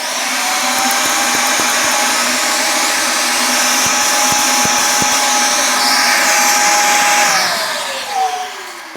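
A Milwaukee vacuum cleaner runs with a steady, loud whine for about seven seconds, then its motor winds down near the end.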